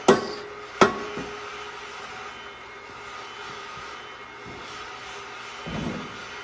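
Two sharp metallic taps, most likely a hammer driving bolts during an electric motor replacement on a Model RBF-15, land close together at the start, then a low steady machinery hum carries on beneath.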